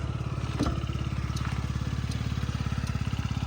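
A Yamaha Jog SA36 fuel-injected scooter engine runs steadily at idle with a fast, even putter, close by and continuous, with a faint clatter and a brief knock near the start.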